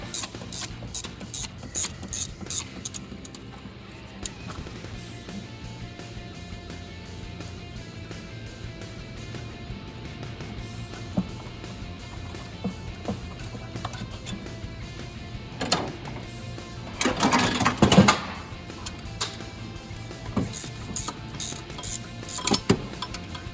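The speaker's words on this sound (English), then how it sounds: "Now we're going to loosen up the two bolts for the alternator in the factory location." A hand ratchet loosens the two factory alternator mounting bolts during a dual alternator bracket install, giving rapid close clicking in bursts along with metallic mechanical clatter. A louder scraping stretch comes near the end.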